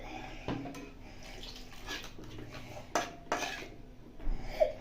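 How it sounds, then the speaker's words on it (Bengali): Soybean soaking water is poured into a pan of potato and soybean curry, giving a splashing, gurgling pour with a few clattering knocks of pan and utensil, moderately close. "এখানে আমি সয়াবিনের যে জলটা ছিল ওইটাই দিলাম।"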